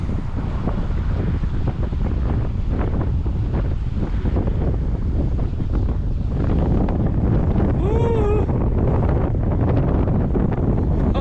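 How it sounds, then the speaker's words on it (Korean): Strong wind buffeting a microphone beside a river during spring sweetfish fishing, a loud, constant roaring rumble with no pauses, and a brief whistling tone near the end. "바람 엄청납니다 지금"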